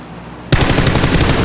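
Sudden loud burst of automatic gunfire in PUBG, rapid close shots firing in quick succession right after a quiet moment.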